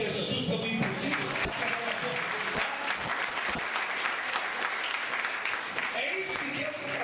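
A church congregation applauds in a dense, sustained wave of clapping that fills the room, with voices calling out amid the applause throughout.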